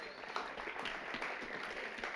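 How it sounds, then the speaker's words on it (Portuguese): A crowd applauds in a continuous, moderate wash of clapping that fills the whole moment, steady and somewhat distant. "Mais uma vez, uma salva de palmas para ele."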